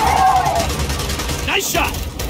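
Gunfire rattles in the video game Gears of War 4 as short, loud bursts and impacts in a busy combat mix, with game voices talking over it.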